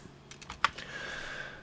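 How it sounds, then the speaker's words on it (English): Several quick, light keyboard taps lead to one crisp key press on a computer keyboard, close and quiet, followed by a faint hiss with no voice. "press a / on my keyboard"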